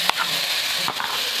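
Ginger garlic paste sizzles in a hot pan for a meal maker curry, a steady close frying hiss broken by two quick scraping stirs.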